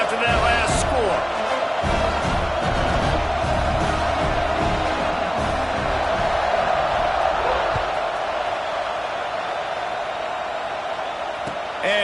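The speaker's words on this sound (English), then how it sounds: "this crowd is buzzing after that last score" Stadium crowd at a Utah versus USC football game buzzing steadily after a touchdown, a dense continuous roar that holds throughout the kickoff, with scattered cheers and whoops rising out of it.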